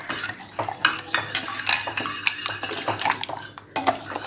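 A spoon clatters and scrapes around a pot of custard being stirred: quick, uneven metallic clinks and scraping strokes, close and fairly loud, with no talking.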